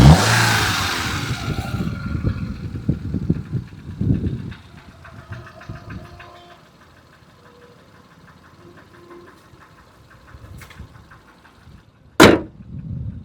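A used Hyundai i10 engine runs, loud and rough at first and then settling into a quieter, low steady idle, with a sharp click near the end.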